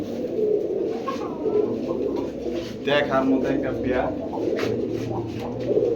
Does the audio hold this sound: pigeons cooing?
yes